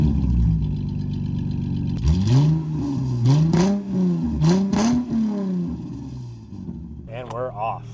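A 1999 Plymouth Prowler engine revs up and pulls away nearby, the exhaust note rising and falling through several throttle blips before settling, with a brief higher whine near the end.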